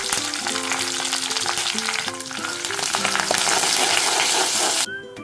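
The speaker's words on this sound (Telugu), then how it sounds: "తాలింపు చక్కగా వేగింది." Tempering of lentils, mustard seeds, cumin, dried red chillies, fresh curry leaves and asafoetida frying in a pan: loud, continuous close-up sizzling and crackling that cuts off abruptly near the end.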